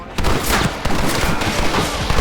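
Gatling gun fire in Red Dead Redemption, a loud, continuous rattling stream of rapid shots with booming low end, sustained without pause.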